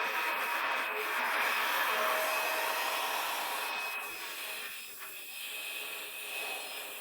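A hair dryer blows a steady, loud stream of air across alcohol inks being dried for a rose painting under epoxy resin, easing slightly as it is pulled farther away.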